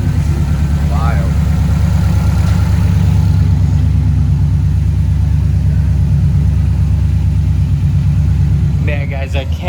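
A modified Subaru Impreza STI hatchback, running again after a blown engine, idles steadily with a low even rumble close by, while someone talks over it almost the whole time.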